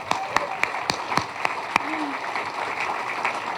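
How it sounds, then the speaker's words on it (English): A banquet crowd at a fire and lifeguard dinner gives a round of applause: sparse, sharp claps ring out in a roomy hall over a background of murmuring voices. "let's give the Chamber a round of applause"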